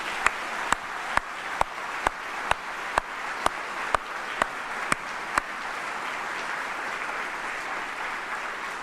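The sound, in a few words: audience applause for Faye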